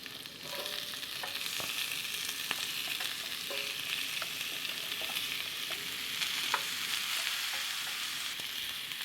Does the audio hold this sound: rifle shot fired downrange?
no